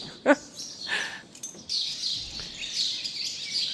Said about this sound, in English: there are really a lot of birds. They give a concert or so